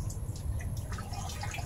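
Lambanog liquor drips from a still during distillation, small scattered drops tapping over a low steady rumble, close and fairly faint, no voices.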